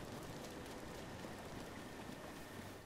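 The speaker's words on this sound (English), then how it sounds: "Oh no, it's gonna rain soon." Steady rain hisses in The Legend of Zelda: Breath of the Wild, a dense even wash of drops on surfaces lasting the whole stretch with no voices.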